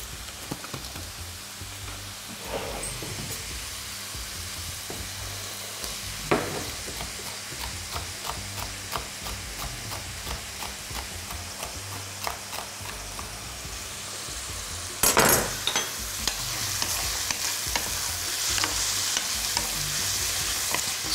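Mushrooms and vegetables fry in a pan with a steady close sizzle, punctuated by occasional clatters of stirring, including a louder scrape near the end; no one speaks.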